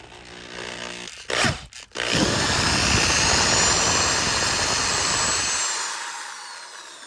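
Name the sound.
power drill running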